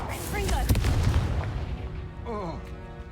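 A Confringo spell explosion in the Hogwarts Legacy video game bursts with a loud crackling blast that fades into rumbling debris, with game voices briefly chattering over it.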